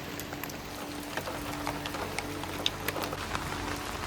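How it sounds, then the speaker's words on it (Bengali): Steady, heavy rain pours down continuously, a dense hiss of drops hitting surfaces close by. "এক টানা মুসলধারে বৃষ্টি চলছে"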